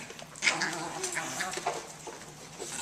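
Dogs fighting in a dog pen, with close, sharp yips, whimpers and snarling bursts in quick irregular succession, fairly quiet overall.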